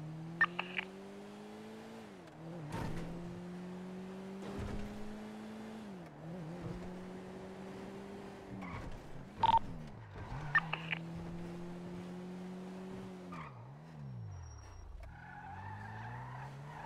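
Cars in a video game, among them a blue Comet, whine through repeated engine revs and shifts, with tires screeching and skidding and a few sharp impacts, fairly quiet overall with no talk.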